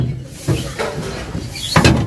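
A detachable upholstered seat being folded gives a few hard knocks and clunks, two main bumps with softer rustling between, close and fairly loud.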